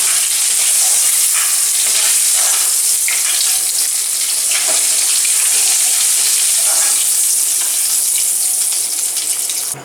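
Bay leaves, black cumin and small cardamom sizzle loudly in hot oil left from frying hilsa, a continuous dense crackle with occasional stirring, close and steady throughout.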